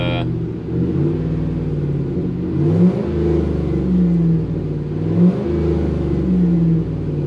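A car engine, just jump-started from a truck, revs up loudly in two rising surges over a steady idle rumble, close by with no talk.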